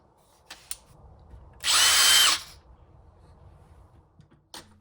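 A Bosch 18-volt cordless drill whirs in a single loud burst of under a second, with faint handling clicks before and after.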